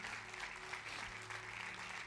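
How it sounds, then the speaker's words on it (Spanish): Church congregation applauding during a Spanish-language sermon, a dense, steady wash of clapping from a large crowd filling the room, heard alone without speech. "Denle un fuerte aplauso a Dios por eso."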